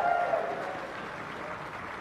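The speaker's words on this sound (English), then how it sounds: "Can we get another round of applause for these teams for a great final?" A crowd at a League of Legends grand final esports event applauds the teams, a soft, distant wash of clapping with a faint tone over it, steady for the whole two seconds.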